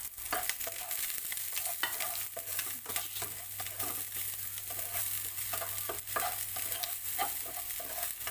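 Five cloves of chopped garlic fry in a pan for a few seconds, a steady close sizzle broken by repeated scraping stirs and clacks of a utensil.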